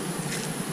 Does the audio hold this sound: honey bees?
yes